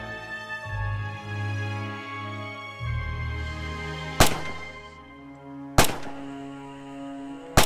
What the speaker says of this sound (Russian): Стреляй по целям.